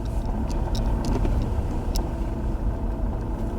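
Cars roll downhill on a mountain road high above the clouds, a steady broadband engine and tyre rumble filling the whole stretch, moderately close, with faint light clicks and ticks above it and no talking.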